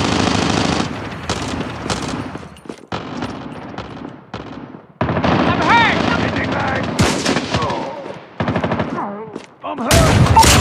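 Rapid automatic gunfire bursts from the mobile shooter Call of Duty Mobile, loud and repeated in clusters with brief gaps, mixed with game effects and occasional in-game voice callouts.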